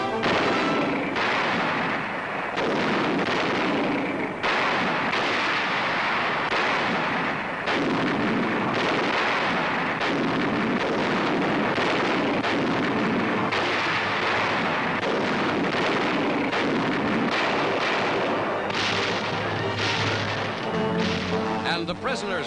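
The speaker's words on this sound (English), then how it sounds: "This is the start of one of the great barrages." A wartime artillery barrage fires continuously, booming guns thudding in dense, overlapping blasts one after another, loud and rumbling, with a narrator talking over the din.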